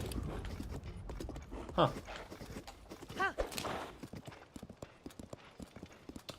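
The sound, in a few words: horse galloping in a video game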